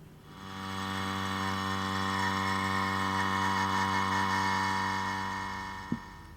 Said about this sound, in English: now into the vacuum chamber.